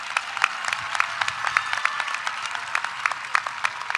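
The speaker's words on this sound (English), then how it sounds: "Yes, that deserves some applause." An audience at a high school graduation ceremony breaks into steady, moderately loud applause, with many individual claps forming a sustained patter.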